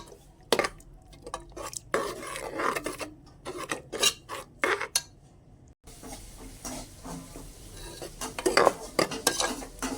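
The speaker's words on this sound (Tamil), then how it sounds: "இஞ்சி பூண்டு பேஸ்ட் பச்சை வாசம் போகிற வரைக்கும் இஞ்சி பூண்டு பேஸ்ட்டு வதங்கட்டும்" A spoon scrapes and stirs ginger garlic paste sautéing in a pan while cooking tomato rice, with repeated rasping strokes in uneven bursts over a faint sizzle, close up and with no voices.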